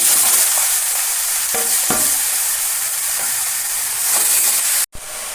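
Taro leaves tipped into a hot pan with ginger and coriander powder, frying with a loud steady sizzle and hiss, occasional stirring scrapes, then a brief cut near the end.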